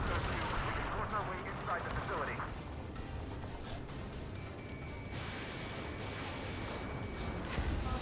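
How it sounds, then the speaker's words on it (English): Rapid, sustained anti-aircraft gunfire in a war video game, a dense continuous barrage of booms and cracks filling the full stretch with bursts of heavier impacts, loud and close amid battlefield noise. "That's an AA gun, isn't it?"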